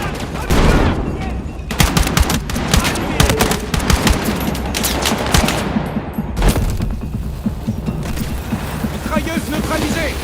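Dense machine gun fire with rapid overlapping bursts in the war video game Battlefield 6, loud and close, with shots and mechanical clatter running almost continuously throughout.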